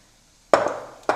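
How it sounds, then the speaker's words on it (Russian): A metal lid is set onto a frying pan of kefir pancakes, landing with a sharp clank followed by a brief rattle and then a second lighter clink as it settles, close and alone. "Накрываем обязательно крышкой."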